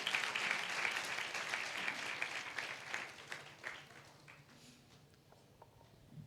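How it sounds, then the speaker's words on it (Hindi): Congregation applause at a Hindi-language church worship meeting, a dense wash of many hands clapping together, loud at first and then gradually thinning and fading toward the end. "ताली बजा के परमेश्वर का धन्यवाद दें।"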